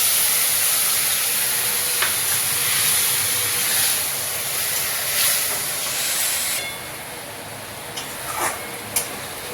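Bowl-rinsing water poured into a pan of frying onions and spices for a potol korma, giving a loud, steady broadband sizzling hiss that dies down partway through, with a few light clinks near the end.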